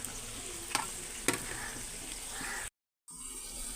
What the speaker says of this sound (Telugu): సో ఇప్పుడు నేను దీనిలో వచ్చేసి దొండకాయలు యాడ్ చేస్తున్నానండి